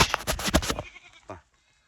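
Several sheep bleat close by in a quick overlapping burst, followed by one shorter bleat after a pause, then quiet.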